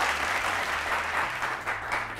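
A studio audience applauds during a Persian-language television quiz show. The dense, steady clapping from a crowd lasts about two seconds and is heard alone.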